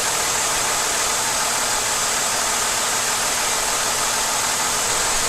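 A Jeep Commander engine idles steadily around 800 rpm, a continuous loud hum and hiss heard up close in the engine bay with no talking.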